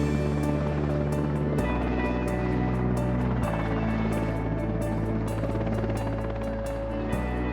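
A military Coast Guard helicopter flies at night over Alaska, its rotor and turbine making a loud, steady, continuous drone with a rapid blade beat that holds throughout, with no voices.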